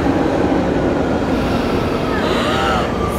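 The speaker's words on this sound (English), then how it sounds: "I'm going on this train now" A train rumbles loudly and steadily throughout, with a continuous broadband roar of rail travel and a faint rising whine near the end.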